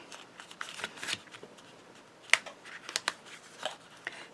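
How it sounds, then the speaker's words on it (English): Paper being carefully folded down while assembling a pop-up card: soft, irregular crinkles, creases and light taps of cardstock close by, with occasional sharper clicks and no voices. "you can start folding it very carefully, and you fold that down"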